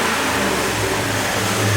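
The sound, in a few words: car engine revving with K&N cold air intake and loud exhaust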